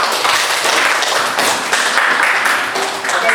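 Classroom of students clapping after a biology lesson on plant movement, steady rapid applause filling the room with scattered taps, close and fairly loud.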